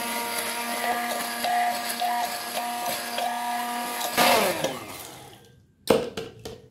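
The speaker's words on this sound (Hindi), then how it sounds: "चटनी को पीसते हैं।" Electric mixer grinder whirring loudly as it grinds tamarind chutney, a steady high motor whine with a change in pitch, then stopping, followed by a few sharp clattering knocks.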